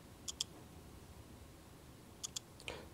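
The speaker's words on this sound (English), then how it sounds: "Notice the faint clicking noise." A Milwaukee 2257-20 infrared imager gives off faint, crisp clicks close by, two quick pairs a couple of seconds apart and then a softer tick against quiet room noise.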